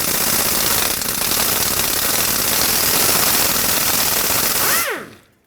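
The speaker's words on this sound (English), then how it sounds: "Use a 10mm socket and remove this bolt" A power tool drives a 10mm socket to remove the brake hose bolt on the rear differential of a 2000-2005 Ford Excursion: a loud, continuous rattling clatter that runs for several seconds, then ends with a brief rising whine.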